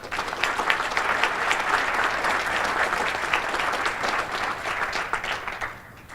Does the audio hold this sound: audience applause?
yes